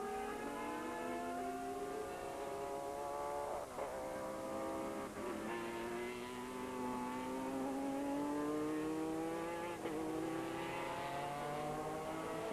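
Sports prototype race cars, including a Riley and Scott, run under steady, loud engine roar through a Sportscar World Championship race in 2000, with rising and falling revs and several pitch shifts as cars pass. No one speaks.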